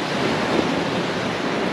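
Steady broadband rush of ocean waves and wind aboard a sailing boat on a choppy Atlantic crossing in force 5 winds of 16 to 20 knots, continuous and loud with no talking.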